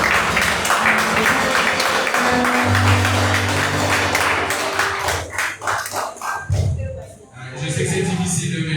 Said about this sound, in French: Vos acclamations.